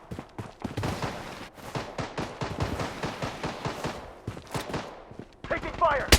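Rapid bursts of gunfire in the shooter video game Blood Strike, a dense run of sharp shots in quick succession, loud and close, with a louder crackling burst near the end.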